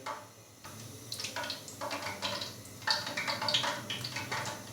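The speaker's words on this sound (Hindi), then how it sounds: "ऑयल हल्का सा गर्म हो चुका है तो अभी हम इसके अंदर आलू के जो कोफ्ते हैं वो फ्राई होने के लिए डालेंगे" Potato koftas dropped into moderately hot oil, sizzling and crackling quietly in irregular bursts that build slightly, with no voices.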